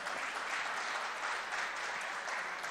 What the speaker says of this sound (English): Usually the backbenchers clap more because they have actually paid for the event.